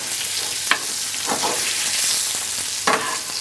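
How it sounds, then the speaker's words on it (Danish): Côte de boeuf steak frying in butter in a hot pan, a loud, continuous sizzle with occasional sharper spits and crackles, close up, with no talking. "Så bader man sin bøf her i dejlig smør."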